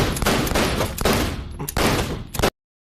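Pistol shots fired wildly in a film scene ring out in a loud, dense burst of rapid gunfire, several close blasts running together before cutting to silence.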